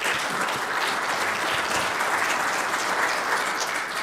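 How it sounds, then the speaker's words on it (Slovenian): A conference audience at an asphalt and bitumen colloquium in Bled, Slovenia, applauding the guests with continuous dense clapping, loud and even for the whole stretch with no voices over it. "Mislim, da si zaslužite aplavz."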